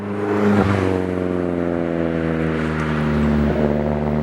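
A turbocharged Fiat 500 hot hatch with a stock bottom end, stock head, TD05H Super 16G turbo and ported manifold, its engine holding a loud, steady droning note close by, with slight rises in pitch and no talking.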